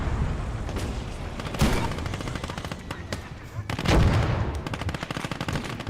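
Anti-tank rifles firing in a Second World War battle in Call to Arms - Gates of Hell at Kerch, 1942, with close sharp reports and bursts of rapid gunfire over a continuous rumble of combat.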